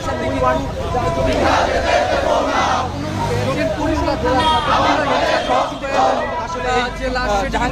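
Student protesters at Dhaka University chant slogans in a loud, rhythmic group, with call-and-response bursts of many voices that carry steadily close by throughout.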